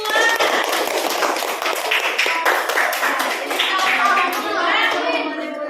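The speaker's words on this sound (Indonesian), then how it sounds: "Terima kasih, tepuk tangan buat kelompok 2." Applause for a student group after a classroom traditional dance performance, a dense steady clatter of many hands clapping with light chatter mixed in, sustained and fairly loud throughout.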